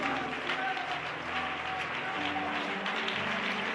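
Church congregation clapping in Jesus' name during a sermon, a dense continuous wash of applause that is fairly loud with voices mixed in underneath.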